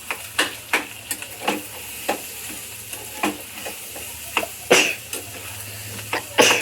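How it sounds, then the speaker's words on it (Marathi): Crushed potato stirred into a frying pan for masala dosa, with a spatula scraping and tapping the pan in short irregular strokes over a low, steady sizzle. "बटाटा टाकून घेते मी."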